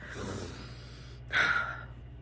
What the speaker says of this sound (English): ignore if I'm breathing way too loud because I have asthma on top of me being pregnant